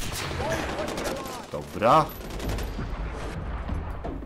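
Gunfire in Far Cry 4 crackles as a rapid fusillade with a louder burst in the middle, over continuous game noise while someone speaks briefly.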